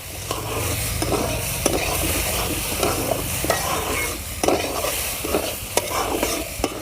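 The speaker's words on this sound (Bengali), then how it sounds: "ডালটা দেখো কত সুন্দর করে আমি ভাজা ভাজা মতো করে নিয়েছি" Moong dal dry-roasting in a pan for a rural-style rohu fish head muri ghonto dal, with a spoon stirring it in repeated scraping strokes over a soft sizzle. Close and fairly loud, with no one talking.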